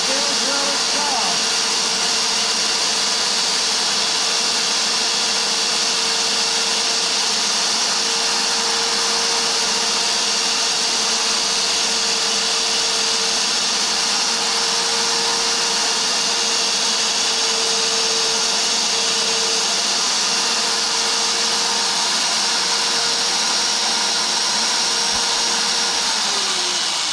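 A VEVOR magnetic base drill press bores through a wooden workbench, giving a steady, loud motor whine with a constant hum that runs unbroken throughout, with no talk over it.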